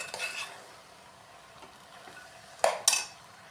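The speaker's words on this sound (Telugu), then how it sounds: "ఇలా చిక్కుడుకాయలు వేసేసుకొని మంచిగా ఒకసారి అంతా కలిపేసుకోవాలండి" A spoon stirs a broad beans and drumstick curry in a pot, soft scraping and gentle stirring with a faint sizzle, then two sharp metallic clinks of the utensil against the pot near the end.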